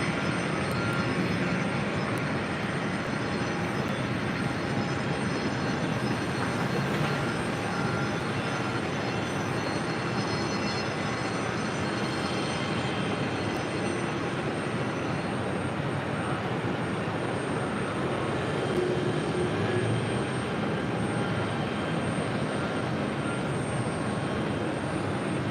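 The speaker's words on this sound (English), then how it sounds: "Next arrival on 4 right, Delta Airlines Flight 63, coming in from London Gatwick in the" A Delta Boeing 767-300ER on approach to JFK runway 4 right, a steady broadband jet rumble at moderate distance, continuous and fairly faint with no voices.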